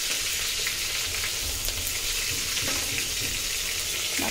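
Eggplant slices frying in a pan, a dense continuous sizzle and crackle of hot oil, loud and close, with faint stirring movements and no talk.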